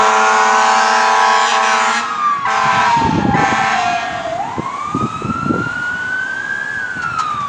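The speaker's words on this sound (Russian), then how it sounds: "Вот едет пожарная, сейчас сниму." An emergency vehicle siren passes along a street in the United States, its loud wail sweeping down and then climbing again over the rumble of passing traffic.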